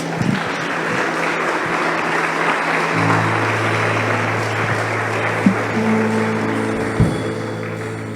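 A church congregation applauds during a sermon, a broad steady wash of clapping from a crowd with a sustained musical tone underneath and a couple of sharper thumps standing out.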